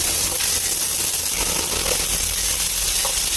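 Chopped onions go into a hot pan alongside potatoes and sauté, giving a loud, steady sizzle and hiss that fills the short stretch without any talk.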